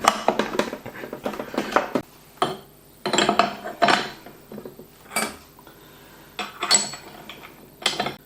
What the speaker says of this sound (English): So let's assemble the mincer.